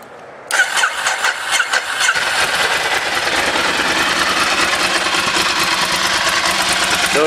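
A Bimota motorcycle with an air-cooled Ducati 1100 V-twin fires up after a moment of quiet, then settles into a loud, steady, throbbing idle close by, with no talking.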